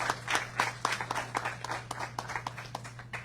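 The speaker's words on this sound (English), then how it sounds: "Give him a round of applause." Audience applause at an appreciation ceremony honoring grocery store employees, a moderate crowd clapping with distinct individual claps audible in an uneven rhythm, under a steady low electrical hum.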